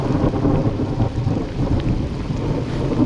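A heavy thunderstorm on an Ontario backcountry lake rumbles continuously, with loud low thunder under dense steady rain, and no voices.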